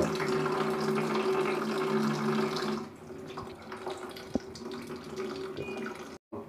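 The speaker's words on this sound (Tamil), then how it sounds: "இது வந்து பார்த்திங்கன்னா போட்ட உடனே சுடு தண்ணி வந்துகிட்டே இருக்கிறதுனால வெயிட் பண்ண வேண்டிய அவசியமே கிடையாது உங்களுக்கு" Hot water runs steadily from the tap of an instant electric water heater, a continuous close splash that eases off partway through, with a brief click near the end.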